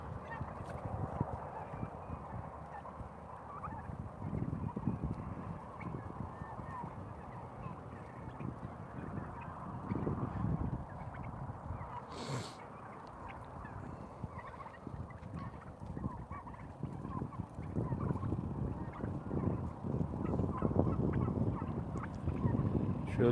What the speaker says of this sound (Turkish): bizim arsanın kenarını talan ediyor hindiler